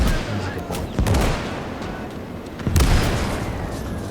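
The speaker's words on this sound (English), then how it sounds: "Mortars are laying into what is a sniper" Mortar shells and blasts pound a position in the WWII strategy game Gates of Hell, with sharp booming impacts near 1 and 2.8 seconds over a steady rumble of distant battlefield gunfire and explosions.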